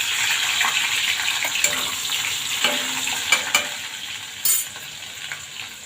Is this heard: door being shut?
no